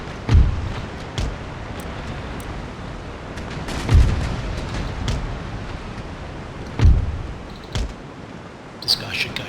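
Warship cannon fire in Empire Total War, several heavy booming shots spaced a few seconds apart, loud against a steady rumbling battle ambience, with someone talking in between.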